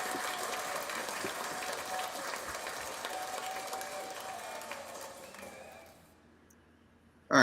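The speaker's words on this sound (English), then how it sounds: "Give him a round of applause." Audience applause after a beat battle set, a broad steady wash of clapping that carries for several seconds, then thins out and stops with a sudden loud burst at the very end.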